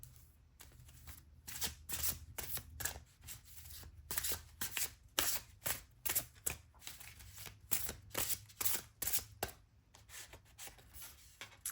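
A deck of tarot cards is shuffled again and again, with rapid riffling bursts in an irregular rhythm, close and clear and with no talk over it.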